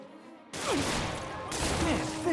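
Gunfire in the Spider-Man Remastered video game during a Kingpin boss fight, a dense loud burst of shots and blasts over busy game noise, continuing in rapid clusters.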